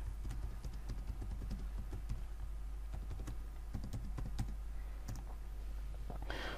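Typing on a computer keyboard to enter a root password for SSH access to an Ubuntu VPS, with irregular close key clicks in short bursts over a low steady hum.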